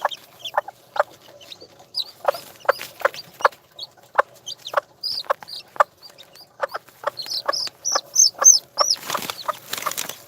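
Hen clucking in short repeated bursts close by while a chick is held by the leg, with higher peeping calls joining and growing denser toward the end.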